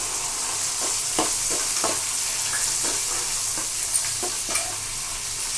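Peanuts frying in a pan for a semiya upma dish, with a steady close sizzle and intermittent scraping stirs of a spoon throughout, no voices.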